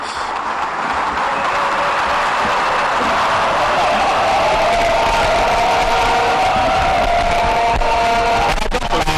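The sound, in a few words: cheering and acclamations opening a plenary session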